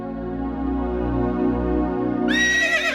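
A horse neighs loudly and close by, a long wavering whinny that rises in pitch near the end over a droning background.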